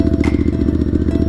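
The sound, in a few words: motorcycle engine revving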